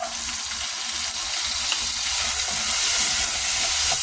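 Onion frying in a pan with garlic while making buro (fermented rice) with tilapia gives a steady, loud hiss of oil sizzle that grows slightly stronger over a few seconds, with no voices.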